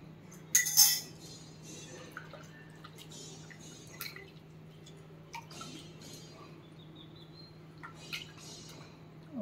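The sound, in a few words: pouring tamarind juice into eggplant curry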